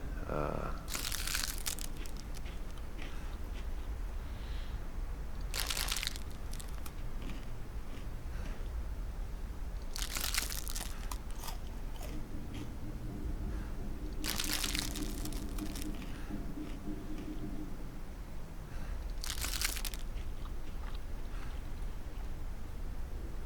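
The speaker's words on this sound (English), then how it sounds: "I'm gonna go ahead and eat so that I know that I'm well fed" Crunching and crinkling bursts of eating food in The Long Dark, a handful of separate chewing and rustling episodes spaced across a steady background of wind or ambience, fairly close and clear with no talking.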